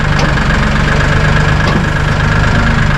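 Massey Ferguson 1800E tractor diesel engine idling at about 1,000 RPM, a steady close rumble with an even low throb throughout and no talk.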